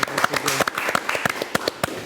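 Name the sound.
studio audience applause for guest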